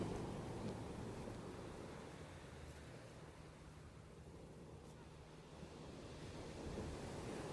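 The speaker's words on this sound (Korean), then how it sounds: "파도가 너무 많이 쳐요." Sea waves roll and break on Pohang beach during surf fishing, a continuous, rumbling wash of surf with wind buffeting the microphone, swelling and easing without any voices.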